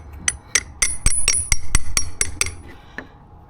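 A socket is struck with a hammer to drive an oil seal into a Gio Titan mobility scooter casing, giving about ten sharp metallic taps with bright ringing overtones at a quick, slightly uneven pace, close and alone.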